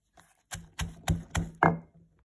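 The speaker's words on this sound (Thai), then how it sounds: "ก็ตำให้ละเอียด" Bird's eye chilies, black peppercorns and garlic pounded finely in a mortar for Thai basil stir-fry paste, five firm, evenly spaced thuds close up, with quiet moments between them.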